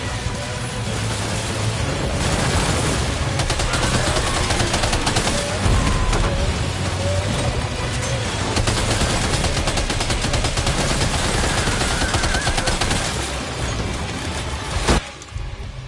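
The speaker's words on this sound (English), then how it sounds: "Opening fire now." Sustained heavy gunfire from Death Stranding 2 gameplay, dense rapid bursts and automatic fire running almost continuously and loud for the whole stretch, with a sharp louder shot near the end before it briefly thins out.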